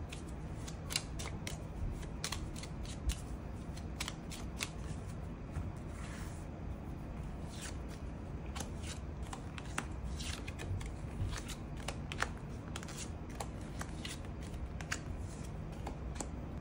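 Tarot cards being shuffled and drawn on a table: a steady, soft flutter of cards with scattered sharper flicks and snaps over a quiet room background, with no speech.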